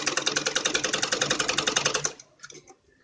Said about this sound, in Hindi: ऐसे कपड़ा बराबर बराबर रख के और सीधी सिलाई लगानी है, ऐसे।